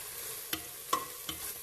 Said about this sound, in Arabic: ونخليهم يتقلوا هكا مع بعضهم مليح مليح